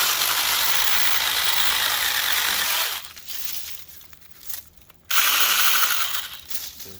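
A battery-powered SEYVUM 5-inch mini chainsaw cuts a larger overhanging branch above a driveway, whining loudly and steadily for several seconds, then dropping low before a second loud burst of cutting.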